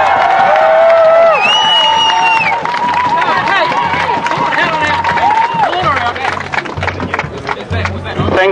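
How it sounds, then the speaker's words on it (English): A crowd at an outdoor protest in Auckland cheers and claps, with whoops and shouted voices over scattered applause that grows choppier and more uneven toward the end. "Give a big round of applause, please, for Keith Locke."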